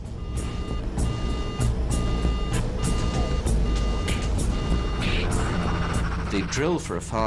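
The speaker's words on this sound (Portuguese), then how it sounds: "o alarme de incêndio do motor dispara" A repeating electronic alarm tone in a Concorde cockpit sounds for an engine fire, regular beeps over a constant loud engine roar, with voices speaking over it.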